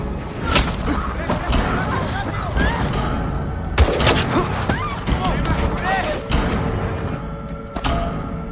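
Gunfire in a film scene: several sharp shots crack out in bursts across a dense, noisy action mix, with a narrating voice talking over much of it.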